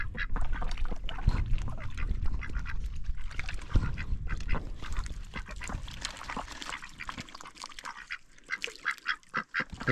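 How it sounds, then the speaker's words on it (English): Farm ducks on a Montana homestead in winter, a dense flock quacking loudly and continuously up close, with overlapping honking calls and no talk. "Ducks wanted to say good morning."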